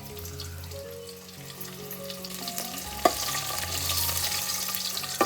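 Garlic and whole spices fry in oil in a pot over a village wood-fired chulha, a steady hiss and crackle that swells a little, broken by one sharp clink, close by with no speech.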